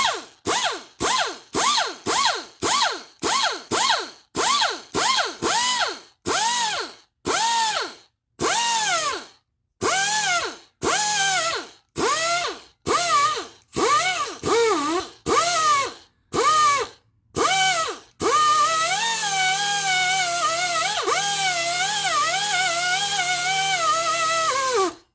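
A handheld power tool, the same kind used for stripping gaskets, grinds curb scratches off a car wheel. Its whine comes in many short, rapid bursts that pitch up and down, then settles into one steady, continuous abrading run close by.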